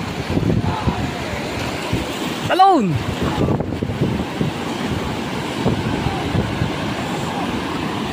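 Ocean waves surging near a boat at sea, a continuous rough wash heavily buffeted by wind on the microphone, with a brief shout over it.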